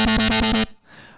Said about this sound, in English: So I added a second oscillator and I went to the wavetable known as acid.